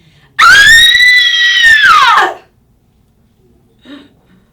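A single loud, sustained high-pitched scream from a woman lasting about two seconds, followed by silence and a faint brief sound.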